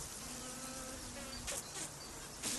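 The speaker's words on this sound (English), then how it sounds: "This meadow is filled with insect life" Bees and other insects buzzing in a British hay meadow, several overlapping drones and whines passing close to the microphone, with a few louder buzzing fly-bys standing out over a quiet steady hum.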